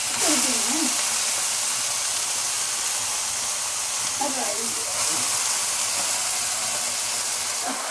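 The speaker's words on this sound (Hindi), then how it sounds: "अब हमने यहाँ तेल डाल दिया है कढ़ाई में, इसमें लहे और लाल मिर्च का तड़का दे दिया है" Steady hissing sizzle of hot oil in a wok throughout as garlic and red chillies are tempered, with brief crackling bursts near the start and middle, close and continuous.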